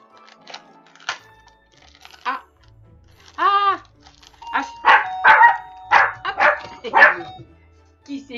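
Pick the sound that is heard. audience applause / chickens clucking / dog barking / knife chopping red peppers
dog barking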